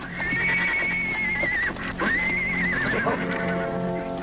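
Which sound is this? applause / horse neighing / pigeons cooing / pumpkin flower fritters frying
horse neighing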